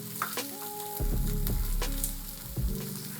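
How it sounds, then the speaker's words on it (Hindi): Onion sizzles in hot oil in a pan, a close, crackling fry with a few scraping stirs and a low rumble of cooking noise. "पहले हम डालेंगे प्याज जो बहुत ही ज्यादा कम है हमारे पास"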